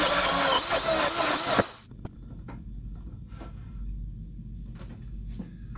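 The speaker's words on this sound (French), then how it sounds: "Et puis, je vais descendre avec le foret." A drill bit bores into a mobile workbench top, giving a loud, dense whir for under two seconds before it cuts off abruptly. Quiet handling clicks and room noise follow.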